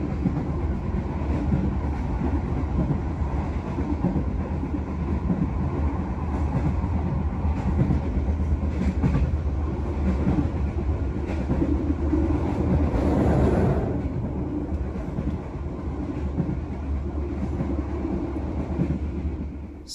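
Riding the KA Gumarang business-class passenger train, a long steady rumble of the carriage with rhythmic clickety-clack of wheels over rail joints, loud and continuous without talk.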